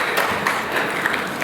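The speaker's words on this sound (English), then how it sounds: "Yes, round of applause" A round of applause from the audience at the Burbank Police Awards luncheon, a brief, steady, fairly loud wash of clapping from many people.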